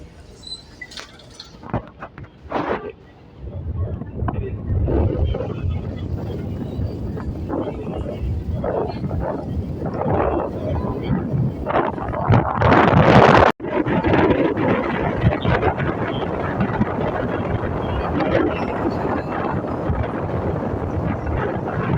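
Strong wind roars and buffets the microphone in heavy, continuous gusts at Batangas Port, with a brief dropout partway through.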